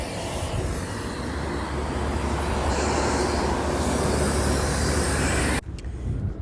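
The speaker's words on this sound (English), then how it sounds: "Now there's a plane flying overhead." A plane passing overhead gives a steady, loud broadband roar with low rumble that holds for about five and a half seconds, then drops away abruptly near the end.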